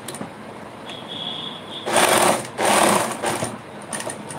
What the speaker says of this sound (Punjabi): ਟਾਂਕਾ ਜੇ ਚਾਲੂ ਕਰਨਾ ਆਪਾਂ ਇੱਥੋਂ ਚਾਲੂ ਕਰ ਲੈਣਾ ਟਾਂਕੇ ਨੂੰ ਇੱਕੋ ਜਿਹਾ